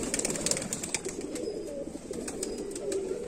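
Kamagar pigeons kept by a breeder in R.S. Pura, Jammu, coo softly in a low, repeated murmur, with faint rustling and light background noise.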